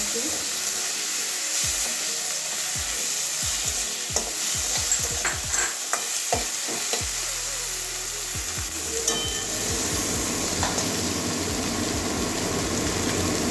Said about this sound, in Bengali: এবারে মশলাগুলো ভালো করে কষিয়ে নেব